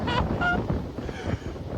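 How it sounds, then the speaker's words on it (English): Strong wind roars across a stormy beach in Bournemouth, buffeting the microphone in a loud continuous rush with surf in the background. "It's so windy"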